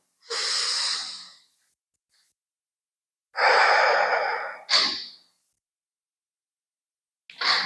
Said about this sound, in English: We'll seal the practice with a deep cleansing breath in and out.